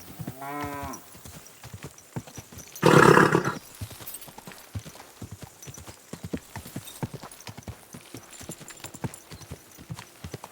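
Rhythmic clip-clop of horse hooves in the video game Kingdom Come: Deliverance 2 trots steadily across the scene, with a brief whinny early on and a loud burst of noise partway through.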